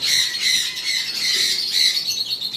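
Male Latino cockatiels giving mating calls on a bird farm, a dense overlapping chorus of shrill squawks and whistles, continuous and loud, close to the listener.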